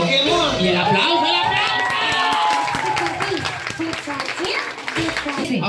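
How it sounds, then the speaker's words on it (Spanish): Audience applause and cheering break out at a lighthearted live modeling contest, a dense wash of clapping mixed with excited crowd voices and whoops that runs steadily throughout, fading slightly toward the end. "¡Y el aplauso!"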